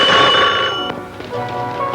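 A telephone bell rings loudly and repeatedly in an office scene, its bright trilling bursts continuing for the whole moment with no talk over it.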